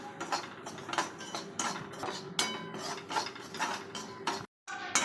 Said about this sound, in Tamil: ஒரு அரை டம்ளர் ரவை எடுத்திருக்கேன் இது நல்லா வறுத்து எடுத்துக்கலாம்